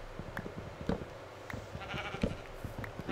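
Sheep in a blocky server-play game give short, repeated bleats, scattered moderately loud calls over soft background noise with no talking.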